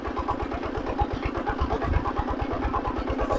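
Small engine of a mini tractor running close by, a rapid even chugging pulse that stays steady and fairly loud for the whole stretch, with no talking.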